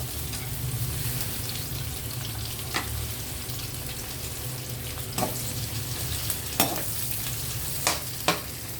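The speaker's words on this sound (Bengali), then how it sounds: "আমার পেঁয়াজটা এরকম ভাজি হবে লাল" Onions frying in mustard oil in a pan give a steady close sizzle throughout, with a few sharp clinks and scrapes of stirring standing out near the end.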